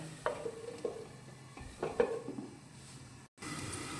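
A potato and eggplant curry is stirred and cooked in a pan, giving scattered utensil clinks and scrapes over a low sizzle, with a brief dropout near the end.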